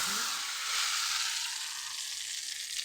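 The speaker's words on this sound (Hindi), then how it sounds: "ये देखें हमारी हमने हरी मिर्ची काटी थी, ये अब फ्राई हो रही है" Green chillies fry in ghee with cumin and garlic, a steady hissing sizzle that stays even and fairly soft throughout, with no talking.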